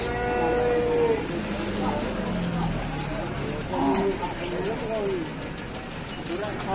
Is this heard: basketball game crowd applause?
no